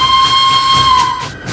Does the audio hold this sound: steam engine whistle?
yes